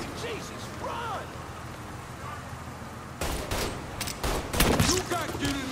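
Gunfire from a firefight in Mafia 3 on PS4 breaks out after a quieter stretch of game ambience and faint voices, becoming rapid, loud, dense volleys of shots over the last few seconds.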